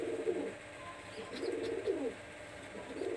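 Pakistani high flyer teddy pigeons coo in soft, repeated low throaty phrases close by, with no one speaking.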